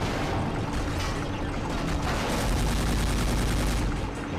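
Dense, continuous gunfire from a video game set on the streets of Bucharest, a loud unbroken fusillade of overlapping shots and bursts with booming low rumble throughout, no voices.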